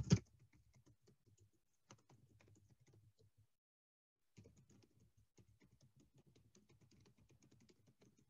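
Fast typing on a computer keyboard comes in quiet, rapid runs of soft key clicks, pausing for about a second midway, with a sharper knock at the very start.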